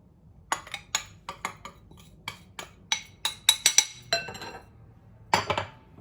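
Powdered sugar and lemon being mixed into a dough in a bowl, heard as a close series of sharp, irregular clinks and taps of a utensil against the bowl, with no talking.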